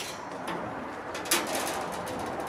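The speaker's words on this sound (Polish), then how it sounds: "i startujemy gołębie." Racing pigeons are released together in the early morning, and their wings flutter and clap briefly in a short, fairly faint burst with no one talking.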